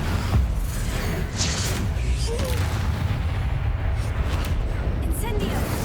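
A Confringo blasting spell explodes in the Hogwarts Legacy game with a couple of sharp booming bursts over a rumbling battle backdrop, while a voice speaks over the action.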